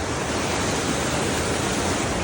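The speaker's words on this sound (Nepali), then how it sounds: "पानी चाहिँ यस्तो आइरहेको छ" Water pours steadily down a waterfall near Dharan, Nepal, making a loud, unbroken rushing roar close by with no other sounds.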